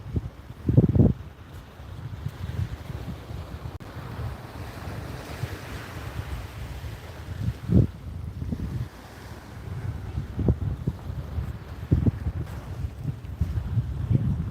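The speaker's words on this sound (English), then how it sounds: "Hope it doesn't get windier." Steady wind gusting across an open ocean beach during surf fishing at Fort Clinch on Amelia Island, with rolling surf beneath it and a few louder buffeting bursts on the microphone.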